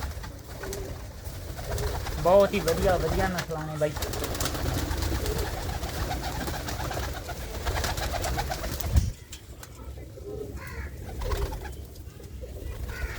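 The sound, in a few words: desi pigeons cooing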